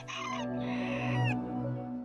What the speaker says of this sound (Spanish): salió afuera al portal y cantó un gallo